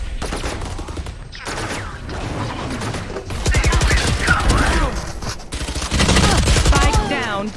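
Gunfire in Valorant, rapid bursts of shots crackling in quick strings, loud and close, broken by short pauses between volleys, with voices talking during the shooting.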